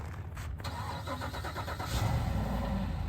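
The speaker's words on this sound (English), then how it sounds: "Nice V8." V8 engine in a project pickup truck cranking and starting, a brief churn of the starter followed by the engine catching into a low, muted idle rumble.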